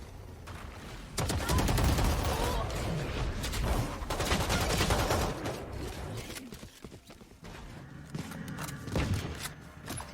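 Swarm grenade explosions in the Valorant video game during a competitive match, a dense crackling volley of blasts and impacts that surges, dips and surges again over several seconds, loud and continuous.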